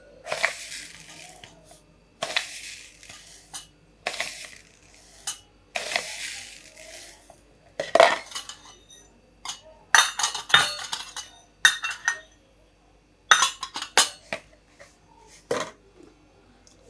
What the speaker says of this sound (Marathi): फोडणीसाठी मोहरी काढून घेते ह्याच्यात